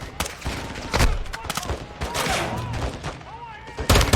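Gunfire bursts crackle through a shooting video game, irregular shots and short rapid volleys with a loud cluster near the end, mixed with game effects while a player talks over it.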